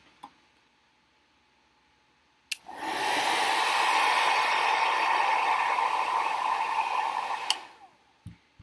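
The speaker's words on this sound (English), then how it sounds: "the air from the blow dryer wasn't able to move it" A hair dryer switches on with a click and blows a steady, loud rush of air for about five seconds, then clicks off, leaving quiet.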